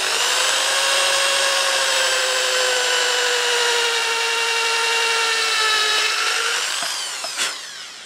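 A power drill whines steadily as it bores into wood through four guide holes to attach a screw-on neck, a loud sustained high motor tone that winds down near the end.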